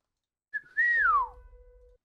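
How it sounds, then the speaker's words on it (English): A single short whistled phrase: a brief note, then a sliding tone that rises and falls before a lower held pitch, close and clear against silence. "That whistle was not intended for anything."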